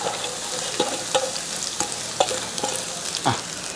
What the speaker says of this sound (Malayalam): ഇനി നമുക്ക് നമ്മുടെ കാബേജും പച്ചമുളകും സവോളയൊക്കെ അരിഞ്ഞു വെച്ചിരിക്കുന്ന അങ്ങോട്ട് ഇട്ട് കൊടുക്കുക